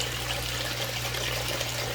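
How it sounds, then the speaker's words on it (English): Water drains steadily from a home aquaponics grow bed back into the fish pond, a soft continuous trickle and gurgle at close range with a low hum beneath, and no voices. "it's slowly draining back in to it"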